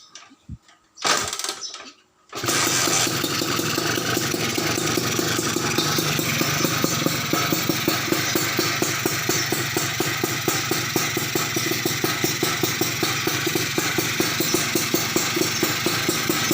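A cold dirt bike engine fitted with an aftermarket NFS exhaust pipe starts after a brief pause and settles into a loud, steady idle with a rapid, even popping rhythm that runs on without interruption.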